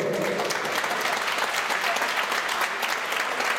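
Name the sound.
audience applause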